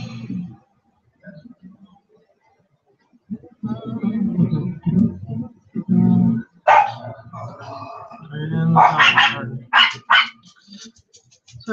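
A dog barks in loud, close bursts indoors, a cluster of sharp yaps and barks separated by short quiet gaps.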